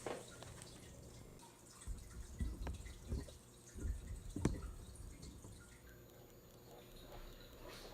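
Tissue-culture aquarium plants washed under running water in a sink, with a steady soft stream and faint drips punctuated by a few louder splashes and handling noises in the middle.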